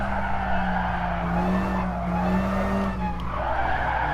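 In a sim racing game, an all-wheel-drive car performs a Scandinavian flick: continuous tire squeal and skidding over a steady engine drone, loud and close, with pitch shifting slightly through the slide.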